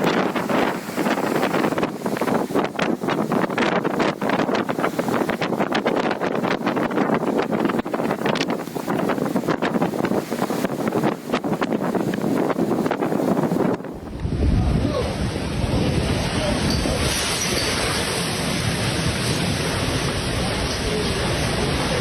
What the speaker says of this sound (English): When the storm hit the shore, the wind and waves became so powerful that boats were pushed around like toys.